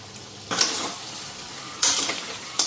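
Chicken masala spices fry in a pan, a soft continuous sizzle broken by three sharp bursts of louder hissing and stirring.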